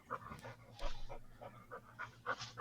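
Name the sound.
dog panting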